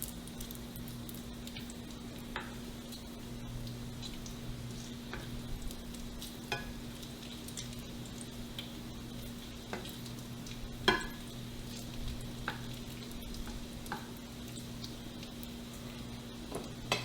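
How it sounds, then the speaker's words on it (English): Homemade bacon frying in a pan, a steady soft sizzle with scattered pops and crackles as it crisps, alongside a constant low hum and occasional light stirring clicks, no voices. "So it's starting to crisp up, and I kind of like my bacon crisp, so we're going to cook it just a little bit longer."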